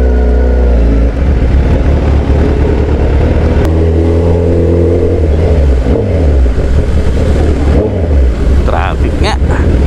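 Road traffic surrounds a motorcycle rider in a busy town, with a steady loud engine drone, shifting revs and passing vehicles including a bus, all continuous and close.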